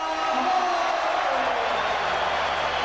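Hockey arena crowd applauding as players walk off after a 1993 playoff game between the Capitals and Islanders, a steady, dense roar of clapping and cheering that stays fairly loud throughout.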